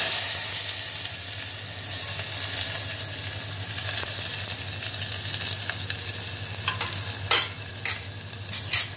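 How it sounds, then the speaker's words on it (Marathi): Onion dropped into hot oil with cloves and asafoetida sizzles loudly and steadily up close, with a low hum underneath and a few sharp stirring clicks near the end, no speech. "मग त्याच्यावरती कांदा टाकायचा"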